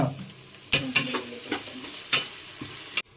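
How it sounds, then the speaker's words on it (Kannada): Onions fry with mint and coriander for chicken biryani. A moderate sizzle sits under several sharp spoon scrapes and taps against the pan, spaced irregularly, ending in a final clack. "ಆನಿಯನ್ನು ಗೋಲ್ಡನ್ ಬ್ರೌನ್ ಆಗೋ ಗಂಟ ಫ್ರೈ ಮಾಡ್ಕೊಳ್ಳೋಣ."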